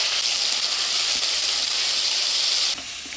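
Ground spice paste of coriander, cumin, ginger and dried chilli with tomato frying in oil for a vegetarian jackfruit curry, a dense even sizzle close by that drops slightly quieter near the end.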